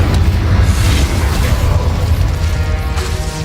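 A loud, continuous fiery burst from the Incendio fire spell in the Hogwarts Legacy video game, a dense roaring blast with crackling texture sustained across the whole moment.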